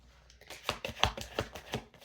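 A deck of tarot cards is shuffled by hand, giving a quick series of soft, close riffling snaps in an uneven rhythm, quiet and without talk.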